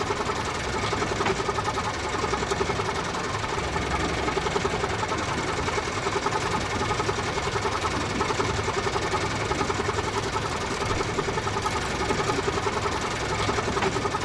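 A diesel locomotive engine runs steadily in Train Simulator on the Bala Lake Railway, giving a constant, even mechanical drone with a rhythmic knocking throb that holds at the same level throughout, with no talk over it.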